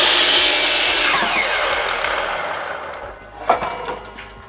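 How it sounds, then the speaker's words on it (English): A power saw rough cuts a wooden board to length with a loud, close, whining rasp that slowly fades before a brief knock as the cut piece falls away. "I'm rough cutting my board to length."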